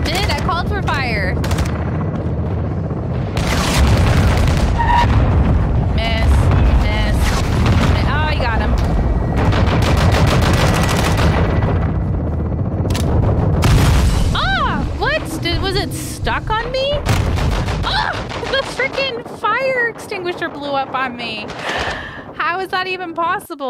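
Heavy gunfire and booming artillery strikes from a Call of Duty: Modern Warfare II battle, loud and nearly continuous with dense bursts and blasts, thinning into scattered shots toward the end; a voice speaks briefly amid the fighting.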